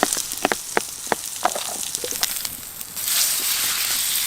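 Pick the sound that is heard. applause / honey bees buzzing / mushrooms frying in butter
mushrooms frying in butter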